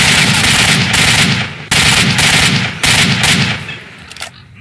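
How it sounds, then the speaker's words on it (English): Automatic gunfire in the video game S.T.A.L.K.E.R. Shadow of Chernobyl, loud and sustained bursts of rapid shots in three long volleys separated by brief gaps, fading out at the end. "Where am I getting shot at from?"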